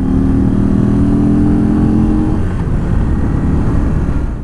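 An Indian Chief Dark Horse motorcycle engine, a modern unit with chain-driven dual overhead cams, roars loud and close in one continuous drone whose tone shifts partway through.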